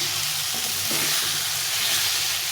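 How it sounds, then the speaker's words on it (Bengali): Vegetables and spices for a fish curry fry in a pan, a steady close hiss of sizzling oil with faint stirring scrapes and no talk. "সবজিটা মশলাটা ভাজা হয়ে গেছে"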